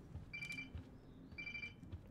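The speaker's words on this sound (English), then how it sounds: "he's going to hear the beep from over there" A key locator in Life Is Strange gives short electronic beeps in two bursts about a second apart, faint over ambient game background.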